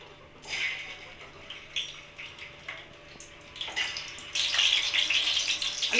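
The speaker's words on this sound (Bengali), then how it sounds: "আমি ডিমগুলো কড়াইতে দিয়ে দিলাম" Eggs go into hot oil in a kadai and begin to fry, the steady hiss of the sizzle swelling suddenly louder partway through and staying bright and close to the end.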